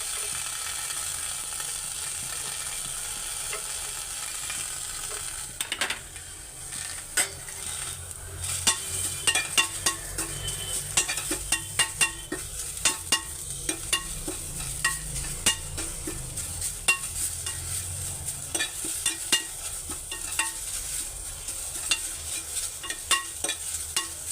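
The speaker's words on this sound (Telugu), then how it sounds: "ఇదో ప్యాన్లో కరివేపాకు వేయించుకోవాలి." Curry leaves fry in oil in a pan, a steady close sizzle overlaid with a continuous string of crisp ticking and scraping stir strokes that grow denser over time, with no voices.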